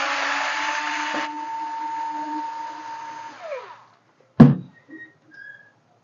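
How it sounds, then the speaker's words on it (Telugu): A power screwdriver whines steadily at first, then winds down and stops while removing a screw from an Epson M200 printer, followed by a sharp knock and a few faint clicks. "స్క్రూ రిమూవ్ చేద్దాం"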